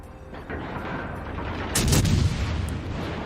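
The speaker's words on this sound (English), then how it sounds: "that Massachusetts gave him full broadside" The battleship Massachusetts fires a full broadside in World of Warships, a loud booming cannon salvo that erupts midway and rolls on with rumbling reverberation over a faint battle backdrop.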